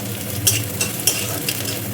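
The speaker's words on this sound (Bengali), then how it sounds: "পেঁয়াজটা ভাজা হয়ে গেছে আর এই যে দেখো সুন্দর বাদামি কালার চলে এসছে।" Onions fry in a pan over a high flame until browned, giving a steady close sizzle broken by a few sharp spatula scrapes and clinks.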